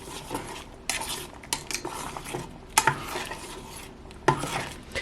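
A spoon stirs minced garlic into a pot of homemade 16 bean chili, giving close, irregular scraping and clinking knocks against the pot in short bursts, fairly quiet with no talking.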